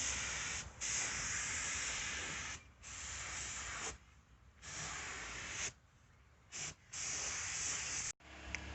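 An aerosol can spray-paints a part yellow in several close, steady hissing bursts of varying length with brief gaps between them.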